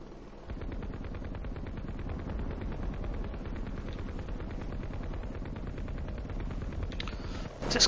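A helicopter-mounted gun fires in the Heliborne game as a long, steady stream of rapid rounds, evenly pulsing and close, with no talking.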